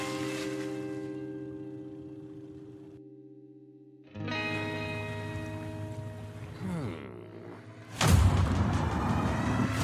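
Cannon fire in a boat-combat video game trailer: droning, effects-heavy music builds, then a sharp, loud blast erupts near the end.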